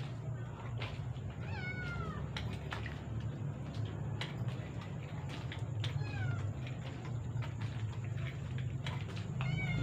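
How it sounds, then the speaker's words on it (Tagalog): Cat meowing repeatedly in a cemetery at night, several short rising cries spread over steady low background hum, moderately close. "Tapos yung pusa o ayaw nang lumayo sa akin."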